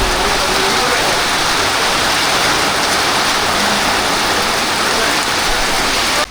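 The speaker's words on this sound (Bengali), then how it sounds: "ভয়ানক বৃষ্টি চলে আসছে।" Heavy rain pours steadily at an outdoor swimming pool, a dense, continuous loud hiss and patter from start to finish with no pauses.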